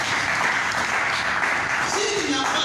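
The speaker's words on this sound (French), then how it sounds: "Applaudissons notre Dieu" A church congregation applauds God in steady, continuous clapping mixed with voices and a murmur of crowd talk, the sound sustained and fairly loud throughout.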